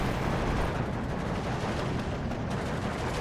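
Dense, continuous rumble of 107 mm mortars firing in the war strategy game Steel Division 2, overlapping booms blending into a loud, unbroken barrage.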